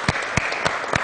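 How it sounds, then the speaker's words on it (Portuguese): A studio audience claps during a Brazilian afternoon talk show, the applause coming in four quick, distinct bursts over roughly one second. "vamos aplaudir aquele recadinho"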